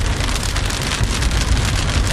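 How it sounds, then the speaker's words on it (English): Heavy raindrops pour down during an overnight thunderstorm in Argentina, a loud, dense, continuous patter beating on a nearby surface without pause. "Big drops falling again."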